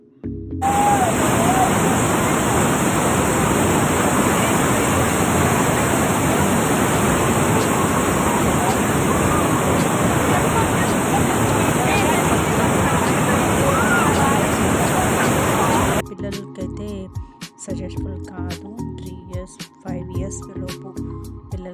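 A constant, heavy roar of Niagara Falls fills most of the clip, loud and close, before cutting away to quieter sounds with faint knocks.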